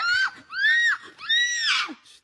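A child shrieks in three long, high, wavering screams, loud and close, after being roused from sleep for the pre-dawn sahur meal.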